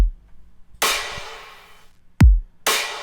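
Kick drum sample in a trap remix with no EQ applied, heard alone: a few sparse hits mixing a low thump with a bright noisy wash, one with a sharp pitch-dropping boom, all close and fairly loud.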